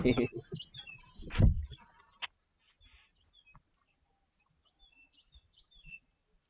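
Loud talking and noise at first, then a quieter stretch where scattered small bird chirps come through faintly from a distance.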